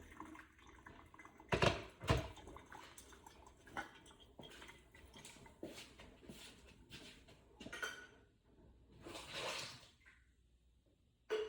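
Hot water pours in uneven splashes to preheat a ceramic cup and a Hario V60 dripper, with trickles, drips and a few louder gushes, near and fairly quiet.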